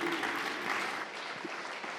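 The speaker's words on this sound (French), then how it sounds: "Merci beaucoup, on vous applaudit" Applause from a conference audience at the close of a presentation on the transition to a smart electricity grid, a steady, fairly quiet patter of many hands lasting the whole moment and trailing off slightly.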